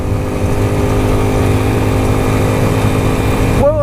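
A Unico BK 200 supermotard motorcycle engine runs loud and close at steady high revs, a constant buzzing drone with strong vibration, its pitch rising sharply just before the end.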